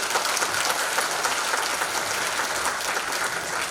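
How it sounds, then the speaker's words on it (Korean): Audience applause at a legislative public hearing, a steady wash of many hands clapping at moderate volume throughout, with no talk over it. "박수 한번 쳐드리죠."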